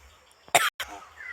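A single short, sharp cough, a quick double burst close to the mic, in otherwise quiet surroundings.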